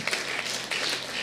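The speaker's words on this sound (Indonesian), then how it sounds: "Yang setuju katakan amin dan tepuk tangan bagi Tuhan kita." A church congregation applauds during a sermon, a brief burst of dense clapping that fills the room at steady strength from start to finish.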